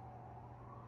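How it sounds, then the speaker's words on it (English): An ambulance siren wails faintly outside, a thin steady tone with traffic rumble underneath, distant and brief. "the ambulance"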